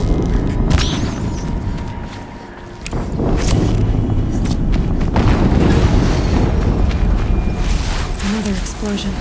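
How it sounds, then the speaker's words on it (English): Another explosion in Horizon Zero Dawn sends up a deep, rumbling roar. It dips briefly, then swells again into a loud, gritty blast that lingers for several seconds. "Another explosion."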